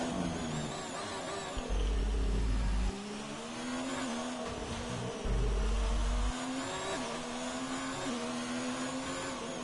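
A Ferrari Formula 1 car in the video game F1 2019 on a Russia circuit, its high engine whine rising and falling through gear changes, loud and continuous with no talk over it.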